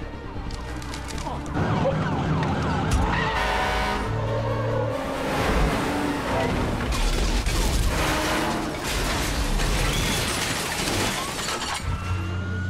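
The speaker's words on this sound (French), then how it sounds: "Je pilote un camion de pompiers à toute vitesse!" A fire truck siren wails in rising and falling sweeps over a loud engine roar of a speeding fire truck, with crashing, chaotic movie action noises throughout.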